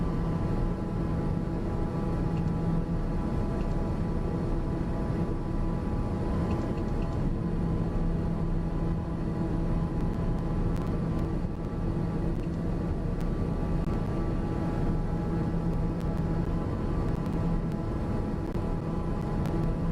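Black Square TBM-850 turboprop cruising in Microsoft Flight Simulator 2024: a steady, loud cabin drone with a constant rumbling hum and fixed tonal whine throughout, no talking.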